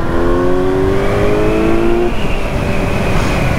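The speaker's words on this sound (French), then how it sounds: "Ah, ça fait tellement bien de passer une moto de 100 chevaux là." A Kawasaki Z900 motorcycle, restricted to about 95 horsepower, accelerating hard with a loud, close engine note whose pitch climbs steadily, drops briefly at a gear change and rises again under wind roar.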